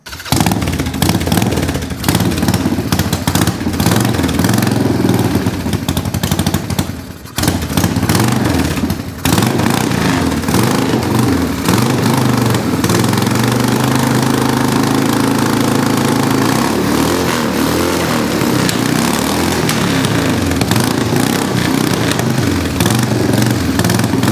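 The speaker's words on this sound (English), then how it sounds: "Let's idle her up just a little bit." A motorcycle engine idling steadily with the choke fully off, a loud close rumbling putter that holds an even pace throughout, briefly dipping near the middle.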